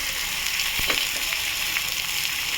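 Ground spices frying in hot oil in a pan on a low gas flame, a steady dense sizzle that holds throughout, close and fairly loud with a few faint scrapes of stirring.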